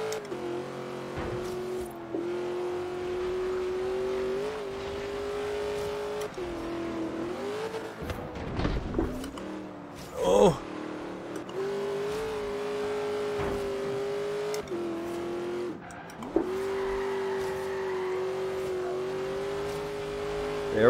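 An AMC Rebel engine held at full throttle in Forza Horizon 3, a loud, steady roar that shifts pitch with gear changes and brief dips as the car is driven hard through corners.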